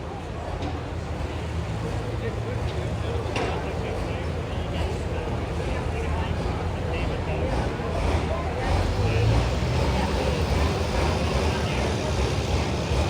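A super stock pulling tractor rated around 1,800 horsepower roars at a New York State tractor pull, a broad, rumbling engine noise that swells toward the end. An announcer talks over it the whole time.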